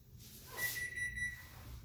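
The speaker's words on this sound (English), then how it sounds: "There's a timer." A kitchen timer sounds in a home kitchen during lasagna preparation: a single steady electronic tone held for under a second, fairly faint over low room hum.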